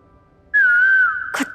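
A person whistles one sustained, slightly wavering high note lasting about half a second and more, then a sudden burst of broadband noise cuts in at the end.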